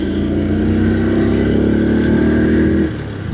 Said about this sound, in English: Traffic chaos as usual